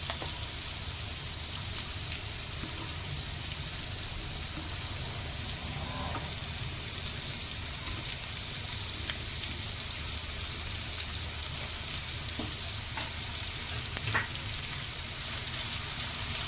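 Onions sautéing in oil with garlic for a prawn kolambi recipe give a steady, moderate crackling sizzle with occasional faint stirring clicks, heard close with no voices.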